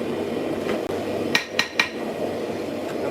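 A hammer strikes a forge anvil three times in quick succession in a blacksmith shop, ringing sharp metallic clanks over a steady low background hum.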